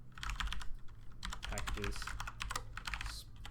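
Computer keyboard typing, a rapid and uneven run of close, crisp key clicks throughout, with a brief spoken word partway through.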